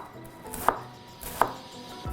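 A knife chops Savoy cabbage into small pieces for slaw, two crisp, distinct thunks on a cutting board spaced under a second apart, close and clear with a soft leafy rustle between and no voices.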